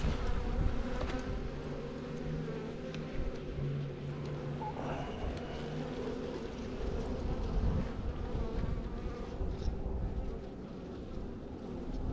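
Honey bees buzzing around an open spring beehive during a March inspection, a continuous dense drone close to the hive, steady throughout with no speech.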